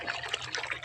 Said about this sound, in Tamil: இங்கே பாருங்கள் எவ்வளோ கம்மியாக வருது தண்ணி.